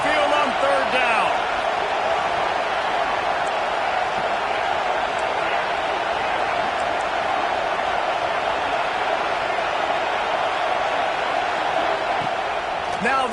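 A college football stadium crowd at Alabama's Saban Field roars continuously on third down, a dense, steady wall of noise with faint talk underneath.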